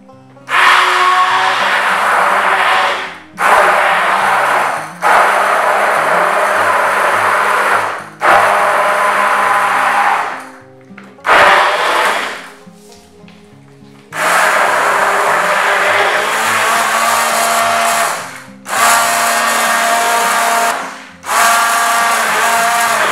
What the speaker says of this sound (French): Nous allons venir prendre maintenant notre mixeur. Nous allons le plonger comme ça à l'intérieur et nous allons mixer le tout.